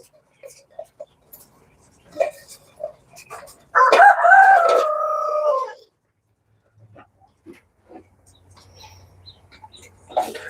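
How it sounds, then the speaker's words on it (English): A rooster crows once, loud and close, with a drawn-out harmonic call lasting about two seconds, framed by scattered soft clucks and light rustling before and after. "I'm gonna make that chicken be quiet again."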